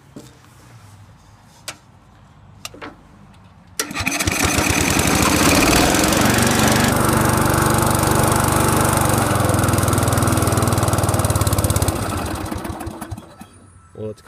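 A vintage Craftsman riding mower, cold with a freshly cleaned carb, cranks after a few clicks, then its engine fires and roars loudly at a steady run for several seconds before winding down, close by.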